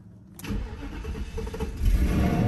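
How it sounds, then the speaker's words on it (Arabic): A Mercedes car that has sat unused for six years cranks and fires up, its engine catching with a sharp start and then settling into a loud, rough, rumbling idle close by. "يا الله يا رب انها يشتغل مرسيدس، اذا وقف فترة طويلة ما ينفع ترى"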